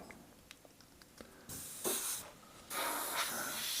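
Faint ticks give way to an airbrush hissing yellow paint in short bursts, then a longer steady spray.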